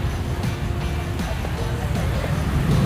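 Steady road traffic and engine rumble heard while riding through congested streets of Malibay on a motorcycle taxi (okada) during the morning commute, a continuous loud low drone with passing vehicle swells.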